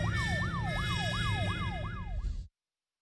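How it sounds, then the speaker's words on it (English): A police siren wails in a rising and falling cycle, about seven even sweeps, loud over road rumble, before cutting off abruptly. "That, Anna, is the police."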